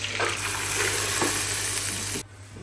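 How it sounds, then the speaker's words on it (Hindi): Loud, hissing sizzle of a hot garlic tempering in oil crackling steadily as it is poured into lentils, then cutting off abruptly near the end. "तड़का रेडी हो चुका है, इसको लगाते हैं दाल में।"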